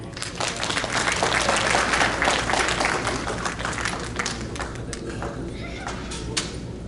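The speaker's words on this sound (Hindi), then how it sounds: "एक बार तालियां हो जाएं।" Dense crowd applause from an audience at a Bhagavad Gita discourse in Surrey, Canada, loud and sustained for several seconds before gradually thinning out.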